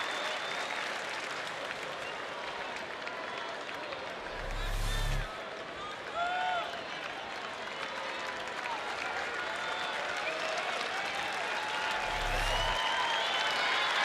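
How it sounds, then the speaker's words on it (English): Baseball stadium crowd at a Rangers home game clapping steadily during a tense final out, a dense wash of applause heard at a distance, with faint thumps and a play-by-play voice on top. "rhythmic clapping going for Matt Garza, trying to get that final out"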